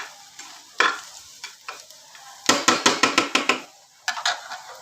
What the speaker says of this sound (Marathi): असं व्यवस्थित परतून घ्यायचं, म्हणजे मीठ, राई, जिरं सगळं मिश्रण व्यवस्थित झालं